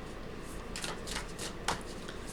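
Tarot cards are shuffled by hand in a quiet room, a series of soft, close riffling bursts with brief pauses between them and no talking.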